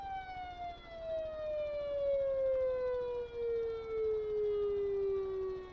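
Vehicle siren in the video game Stormworks, a single loud, steady electronic wail sliding slowly downward in pitch from start to end, heard alone without talking.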